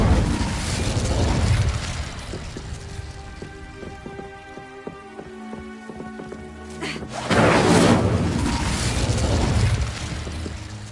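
An Incendio fire spell is cast in the video game Hogwarts Legacy, a loud roaring whoosh that swells, fades into a quieter stretch of crackles and returns strongly, with no talking.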